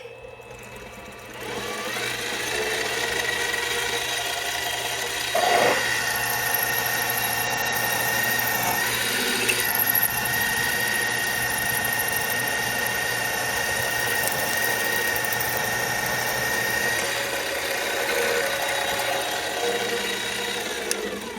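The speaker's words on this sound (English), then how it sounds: "I did use a bigger center drill. I'm step drilling it." Steady mechanical whine of a small lathe step drilling metal, running continuously, with faint scraping and a brief louder burst partway through, no talking.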